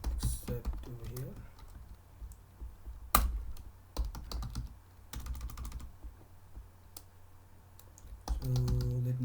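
Rapid clicking of a computer keyboard as code is typed for a Django Channels WebSocket endpoint, in bursts of close keystrokes with short pauses, faint talk at moments.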